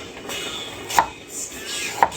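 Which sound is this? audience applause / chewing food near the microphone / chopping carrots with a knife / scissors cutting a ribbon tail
chopping carrots with a knife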